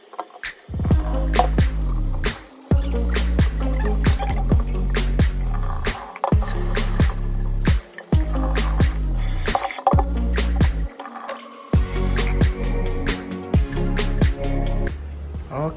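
Glutinous rice being rinsed in water in a pot, with repeated bursts of sloshing, dripping and pouring close by that stop and start throughout.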